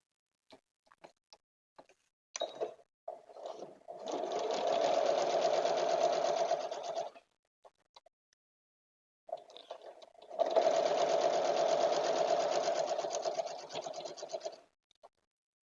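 Sewing machine stitching a quarter-inch seam on a quilt block, running in two steady bursts of several seconds each with a short pause between, close and fairly quiet, preceded by a few soft clicks and handling noises.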